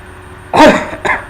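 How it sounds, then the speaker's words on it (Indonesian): A man with flu gives a single close, loud cough followed by a smaller second cough, both harsh and throaty. "Ini Bapak kena flu ya, jadi batuk"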